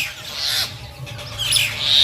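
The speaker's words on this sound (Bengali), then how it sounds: "দেখো কত শালিক পাখি এসছে উড়ে উড়ে" Myna birds squawk nearby in a quick burst of a few harsh, scratchy calls.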